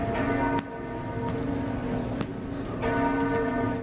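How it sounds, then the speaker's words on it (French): Church bells peal from churches in France two days after the Notre-Dame de Paris fire, a steady, ringing wash of overlapping tolls at moderate distance with a few sharper strikes, no talk over them. "les cloches ont retenti dans les églises de France en symbole de soutien"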